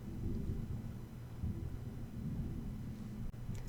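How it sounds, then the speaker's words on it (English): Thunder rolls as a deep, continuous low rumble that stays steady and fairly loud throughout, with no voices over it. "More thunder."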